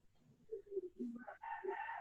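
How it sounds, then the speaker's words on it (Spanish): A rooster crows, a clear stepped call that rises and holds at moderate distance, heard alone in an otherwise quiet setting. "El gallo se despertó tarde."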